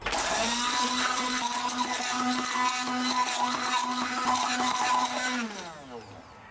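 A blender whirs loudly at a steady pitch for several seconds mixing egg yolk mayonnaise with vinegar, water and salt, then winds down as the motor slows and stops.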